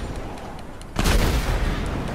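A tank cannon fires in the GTA Online video game: a sudden loud boom after a quiet second, then a sustained roar of rumbling blast noise.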